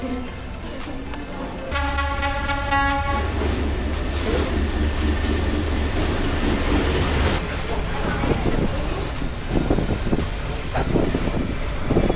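Along Hanoi train street a train rumbles and rattles steadily past at close range, with a loud horn blast near the start. People can be heard talking faintly in the background.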